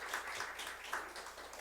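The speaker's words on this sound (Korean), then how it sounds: "박수로 환영해 주시기" A church congregation claps steadily to welcome visiting worshippers, a dense, continuous patter of many hands filling the room at moderate loudness with no one speaking.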